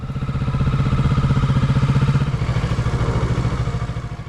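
Engine of a 2025 Kawasaki Ninja 650 motorcycle under riding, a loud, steady, throbbing drone with a pulsing rhythm held close and continuous throughout, easing slightly in pitch partway through, with no voices.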